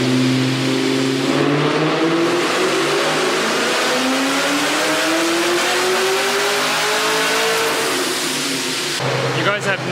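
A car engine on a dyno revs hard and loud at close range, its pitch climbing steadily through a long pull before dropping off abruptly near the end.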